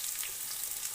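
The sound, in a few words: vegetables (potol) sizzling and frying in a pan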